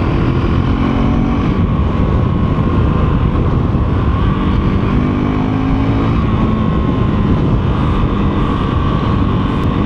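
A KTM 390 Duke motorcycle engine drones loudly and continuously while riding, its steady throbbing hum mixed with rushing wind and no pauses.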